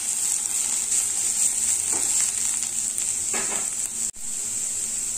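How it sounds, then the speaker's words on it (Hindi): Bottle gourd frying in a pan for halwa gives a steady, loud, hissing sizzle throughout, with a few faint stirring scrapes and a brief dip near the end. "लौकी फ्राई हो गया है"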